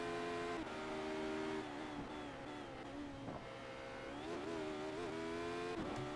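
A Radical SR8 race car in iRacing at the Zolder circuit accelerates toward full throttle, its high-revving engine note climbing and shifting steadily. The engine is heard alone and fairly quietly.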